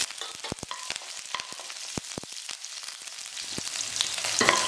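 Chopped green chillies frying in hot oil with urad dal and chana dal, a steady crackling sizzle dotted with sharp pops and stirring clicks, growing slightly louder near the end, with no talking.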